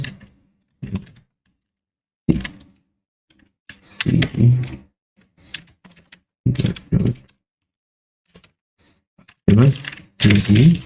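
Keystrokes on a computer keyboard come in short bursts separated by pauses, fairly close and clear, with a voice speaking between and over the typing.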